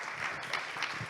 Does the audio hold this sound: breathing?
no